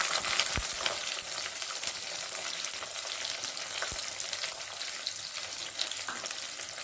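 Shallots and green chillies frying in a pan of hot oil for a quail curry, a steady close sizzle and crackle with a couple of sharp pops near the start and middle.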